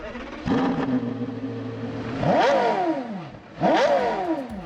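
A powerful Porsche supercar engine fires up and revs hard twice, sharp rising snarls with a rumbling idle between, loud and close.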